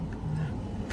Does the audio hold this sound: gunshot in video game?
no